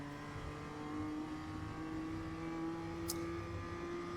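A BMW M2 CS on the Navarra Speed Circuit in iRacing, its engine droning and rising steadily under power with a sharp whine, a short faint tick near the end, and no voices.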